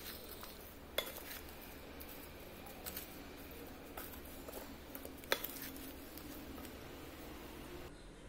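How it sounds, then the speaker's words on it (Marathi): A spoon mixes chopped vegetables for pickle with rock salt and asafoetida in a bowl, giving quiet scraping and occasional light clinks against the dish, close and soft, with no voices. "हे आपण जरासं मिसळून घेतो आहे"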